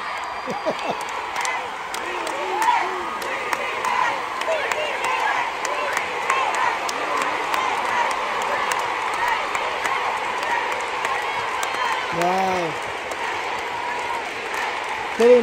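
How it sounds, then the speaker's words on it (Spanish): A crowd at a 2024 tour concert celebrates a 93rd birthday with ongoing applause and cheering, a steady roar of clapping and scattered shouts heard from within the audience, with voices calling out nearby. "Toda una ovación, se la merecía, se la merece."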